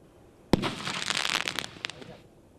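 Street fireworks going off in Nassau County, a sharp bang followed by about two seconds of dense crackling bursts that taper into a few scattered pops.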